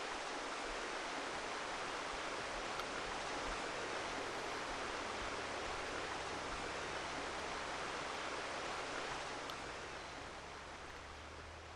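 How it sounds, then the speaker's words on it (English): Steady rushing waterfall in the Farming Simulator 15 game world, a broad constant roar heard from up close that eases slightly toward the end. "let's stand underneath this waterfall."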